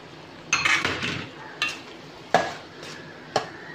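Goat blood fry is stirred and mixed in a pan, with a few sharp spoon-on-pan scrapes and clinks over a faint, quiet sizzle.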